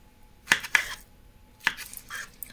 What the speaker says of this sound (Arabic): دروك نزيد نقطع الحبه الزوجه تاع الباذنجان